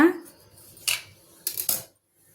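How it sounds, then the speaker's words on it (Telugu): Bread being cut into small pieces with a knife on a kitchen surface for a homemade bread sweet, giving a few sharp, close clinks and scrapes in separate bursts with quiet pauses between. "ఇలా మధ్యలోకి కట్ చేసుకొని చిన్న చిన్న ముక్కలా చేసుకోవాలండి"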